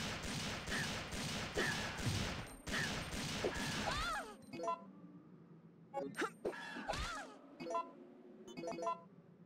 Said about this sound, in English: I'm just fucking wasting shots.